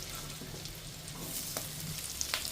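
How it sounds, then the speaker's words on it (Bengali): Capsicum fries with ginger and green chili in a pan, giving a steady, close hiss of sizzling oil with a few light stirring clicks near the end and no speech. "ক্যাপসিকামটা দিয়ে আমি একটু নাড়াচাড়া করে ভাজবো ততক্ষণ যতক্ষণ না ক্যাপসিকামটা একটু নরম হচ্ছে"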